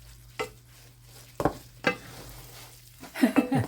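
Sticky kakanin being stirred in a kawali, with several scraping, thudding strokes spaced apart and a faint steady hum behind them; a livelier scraping burst comes near the end.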